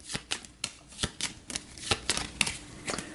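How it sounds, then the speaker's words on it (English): Aeon's End game cards riffle-shuffled close up, a steady series of soft, crisp ripples with no talking. "So, we'll go ahead and give this a shuffle."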